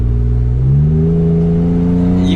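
A Jeep Wrangler JL with a loud Magnaflow exhaust accelerates, its close, loud engine note climbing steadily in pitch as it gets up to speed.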